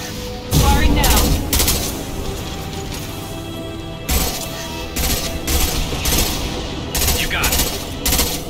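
Gunfire in the Mass Effect 2 video game comes in repeated loud bursts and heavy impacts, with rattling volleys broken by brief gaps over a mechanical rumble, and voices heard among the shots.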